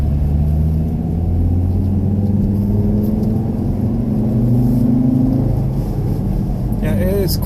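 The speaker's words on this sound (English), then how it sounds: "My car is still a little bit struggling. I might be in a little bit too high gear, but it's quite a steep hill" Car engine labouring up a steep hill in too high a gear, a loud, steady low rumbling drone that slowly shifts in pitch, with a person talking over it the whole time.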